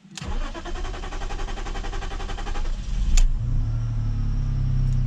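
A BMW 530i that has been having fuel trouble cranks with a fast rhythmic starter whir for about three seconds, catches, and settles into a steady, fairly loud idle close by.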